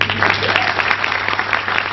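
An audience at a business presentation breaks into dense, sustained applause, loud and close, a steady wash of many clapping hands over a low hum, with no speech over it.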